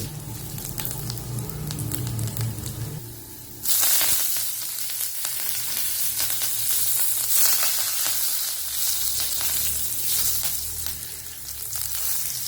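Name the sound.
garlic cloves and curry leaves sizzling in hot oil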